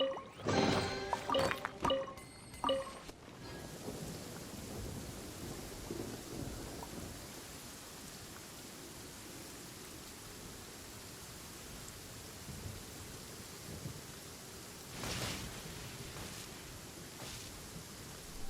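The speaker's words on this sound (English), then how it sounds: "I literally get lightning striked over here" Thunder from a lightning strike in the video game Genshin Impact, in the Inazuma area. A sharp burst at the start is followed by a long low rumble with steady rain-like hiss, then a second crack near the end.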